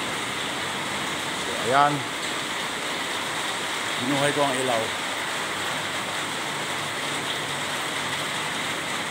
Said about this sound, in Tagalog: Kahagabi pa ditong umuulan, hanggang ngayon umuulan.